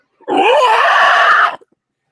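A single creepy scream made by a person drawing breath inward, loud and close, a strained rising-and-falling wail lasting a little over a second before cutting off into silence.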